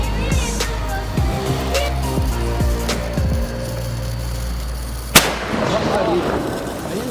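A big Sivakasi sky shot firework goes off at night, a run of crackling pops followed by one sharp, loud burst that rings out over a noisy outdoor background.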